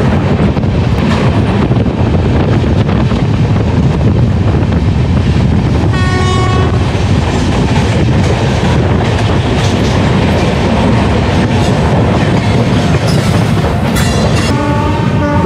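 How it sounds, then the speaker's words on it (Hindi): Samta Express passenger train accelerating at speed to overtake a freight train, a loud, constant roar of wheels on rails with rhythmic clickety-clack and short horn toots sounding over the din. "तो हमारा ट्रेन बहुत गजब का एक्सीलरेट कर रहा है एंड अभी हम लोग फ्रेट ट्रेन को"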